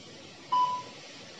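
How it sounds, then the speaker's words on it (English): Interval training timer emits a single clear electronic beep of about a quarter second, followed by a fainter tail and the start of another beep at the very end, against quiet room background. "So I have said you will get this beep."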